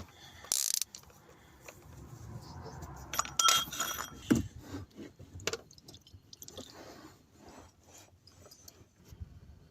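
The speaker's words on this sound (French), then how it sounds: "On va desserrer le filtre à huile." A ratchet loosens the oil filter on a Seat Leon during an oil change, making close, irregular metallic clicks and clinks with short pauses and handling noises between them.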